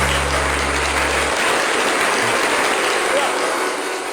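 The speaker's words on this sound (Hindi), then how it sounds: "इसमें रुक ये इस पे तालियां नहीं रुक रही हैं।" Studio audience applause on a late-night talk show, a loud wash of clapping throughout while a voice speaks over the opening moment.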